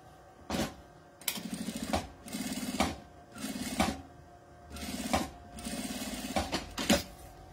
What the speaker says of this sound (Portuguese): Posiciono o viés aqui e passa a costura.